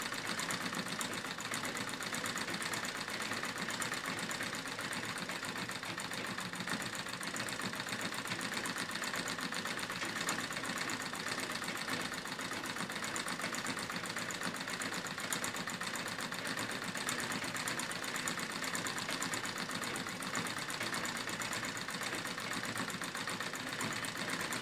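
A treadle sewing machine stitches heavy quilting into denim, a steady rapid mechanical chatter and whir that runs unbroken and evenly at moderate loudness, with no voices.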